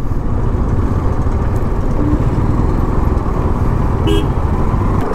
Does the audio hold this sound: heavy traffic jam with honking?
yes